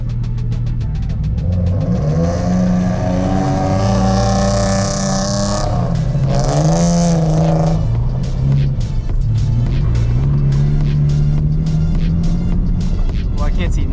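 A Nissan 350Z drift car with an angle kit and welded differential runs a mountain road line, its engine revving loudly and steadily with rising and falling pitch throughout, while people talk over it.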